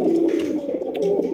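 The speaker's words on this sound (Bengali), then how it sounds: "দেখতেই পাচ্ছেন মাশাআল্লাহ চমৎকার একজোড়া নান কবুতর" A pair of big, healthy Nun pigeons coo in a steady, low throaty murmur, close and fairly loud, with the soft cooing running continuously through the short moment and no talking over it.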